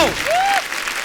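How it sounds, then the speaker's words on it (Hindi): Applause from a TV comedy show studio audience, loud and steady over about a second, with a brief sung or whistled tone rising briefly over it. "एक बार जोरदार तालियां"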